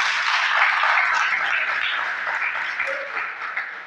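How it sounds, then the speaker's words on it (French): Audience applause at a school ceremony honoring top baccalaureate graduates in Bargny, Senegal: dense, steady clapping from a seated crowd that holds fairly even for several seconds before easing slightly. "sous vos applaudissements, s'il vous plaît"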